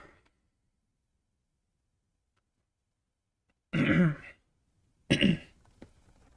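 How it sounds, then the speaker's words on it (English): After a long silence, a person clears their throat twice in quick succession, close and fairly loud, with a faint rustle after. "Still have a lingering cough, so I'll be clearing my throat and such occasionally."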